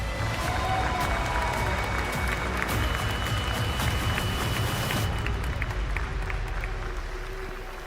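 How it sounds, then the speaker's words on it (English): Audience applause at a chess esports playoff event fills the room as a dense wash of clapping from a crowd, sustained for several seconds and then thinning toward the end. "please can I have a round of applause for Hikaru Nakamura?"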